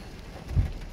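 Steady rain pours down during a night thunderstorm over Olsztyn, a dense, even hiss close by, with a soft low thump swelling briefly midway.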